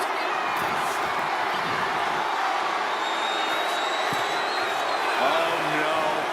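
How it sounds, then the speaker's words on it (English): A steady, wide wash of arena crowd noise fills a WWE 2K25 wrestling match, holding an even level throughout while a commentator talks over it. "The suspense this crowd is feeling is palpable."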